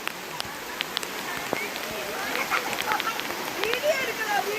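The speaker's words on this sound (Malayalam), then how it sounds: "പക്ഷെ ഭയങ്കര മഴയായിപ്പോയി. ഞങ്ങളിപ്പോൾ മഴയത്താണ്." Heavy rain falls in Wayanad, a dense, close hiss of drops pattering on surfaces with scattered sharper splashes, while people talk through it.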